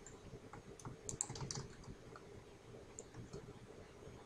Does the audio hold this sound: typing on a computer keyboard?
yes